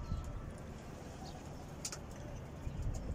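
Pigeons on a rooftop coo softly and indistinctly within a dense, noisy outdoor ambience, with a few faint higher chirps breaking through.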